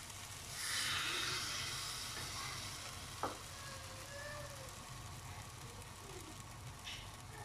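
Rava dosa batter with dry fruits and nuts cooks on a hot pan, giving a soft, continuous hiss and sizzle. A single light tap stands out partway through.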